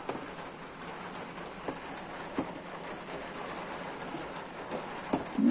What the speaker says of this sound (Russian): Вот это дождик.